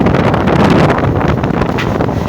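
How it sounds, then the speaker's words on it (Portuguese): Strong wind buffeting the deck of a fishing boat ahead of approaching rain, a loud continuous roaring rush with gusty fluctuations, close to the microphone and without speech. "Vem chuva e vento com força."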